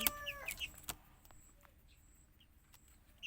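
A chick peeps in a few short, high, thin calls close by: a cluster at the start, then scattered single peeps over a quiet background, with a soft knock early on.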